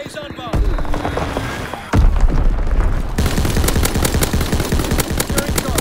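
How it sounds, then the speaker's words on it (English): Heavy gunfire and explosions in a Call of Duty WWII match: a deep boom hits near the start and another at about two seconds, followed by dense, rapid machine-gun bursts continuing loudly to the end. "Dropping Azon bomb."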